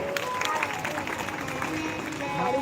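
Audience applause at a Shrimad Bhagavat Saptah religious discourse, a short burst of steady massed clapping from a crowd, at moderate volume with a voice speaking over it.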